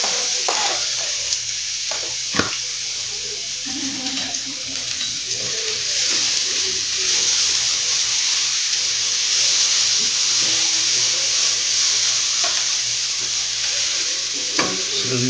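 Onion sautés in butter or margarine in a pan for chicken menudo, producing a loud, continuous hissing sizzle with a few sharp spatters and scrapes along the way.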